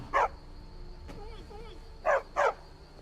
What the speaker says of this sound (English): It's a very big dog.